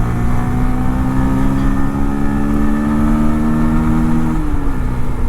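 Bajaj Pulsar 125 Classic motorcycle exhaust held at a steady, loud rev for several seconds, the engine note dropping slightly near the end, with no talking.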